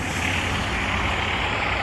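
A Canadian Pacific hi-rail truck rolls along railway tracks, giving a steady, dense engine rumble with broad mechanical noise that stays loud and constant throughout, with no voices over it.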